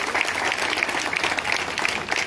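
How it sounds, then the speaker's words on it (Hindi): Applause from a crowd at a student youth forum's foundation day event, brisk continuous clapping filling the short stretch with no voices. "तालियों के साथ"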